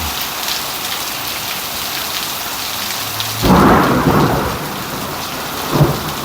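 A thunderstorm over Phoenix, Arizona: heavy rain hisses steadily, then a loud, close thunderclap booms midway and a second rumble follows shortly after.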